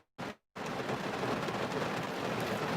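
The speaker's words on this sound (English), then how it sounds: "It's raining like a motherfucker, man." Heavy rain pours down in a dense, steady roar that fills the scene after a brief cut at the start, loud and close with no voices over it.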